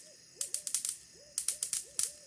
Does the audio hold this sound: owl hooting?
yes